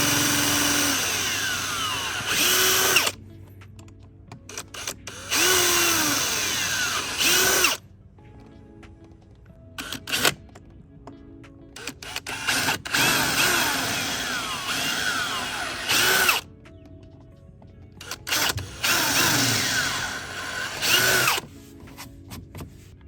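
A power drill runs in several long bursts, roughly three seconds each, with pitch sweeping as it bites and slows, separated by quiet gaps with faint clatter, close and loud, during a repair of a broken eBay front lip on a Mazda MX-5.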